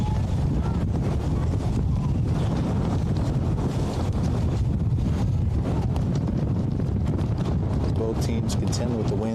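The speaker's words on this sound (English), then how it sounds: "Both teams contend with the wind." Strong wind blasting across an outdoor sports field during a team scrimmage, a constant loud roaring rumble buffeting the microphone throughout, with gusty texture and faint distant sounds buried beneath it.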